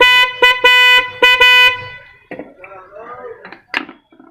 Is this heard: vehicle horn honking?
yes